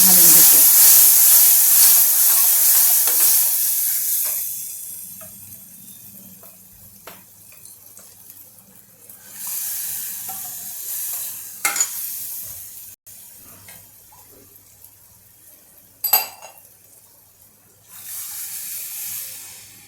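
Water poured into a sizzling green chilli dal tempering with coriander hisses loudly at first, then settles into softer bubbling and stirring, with brief sharp bursts of sizzle returning a few times.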